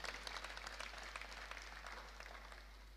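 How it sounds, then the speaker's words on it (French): Faint audience applause from a crowd at an official visit, scattered clapping fading gradually over a steady low background hum. "Sous vos applaudissements."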